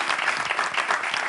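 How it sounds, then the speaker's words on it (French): A crowd breaks into brisk, dense applause for dancers taking the stage, a short, full burst of many hands clapping together without talk. "On commence à les applaudir."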